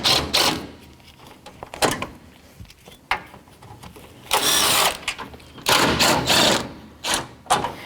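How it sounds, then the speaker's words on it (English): Bolts come out of the radiator cooling fan assembly of a 2006-2012 Toyota RAV4 under a 12mm socket wrench. The close ratcheting clicks arrive in short broadband bursts, including a couple of longer ratcheting runs, with quiet gaps between them. "a 12mm socket is going to take the last 4 bolts out."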